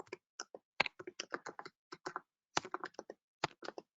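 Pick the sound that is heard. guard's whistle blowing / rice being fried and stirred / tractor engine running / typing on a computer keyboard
typing on a computer keyboard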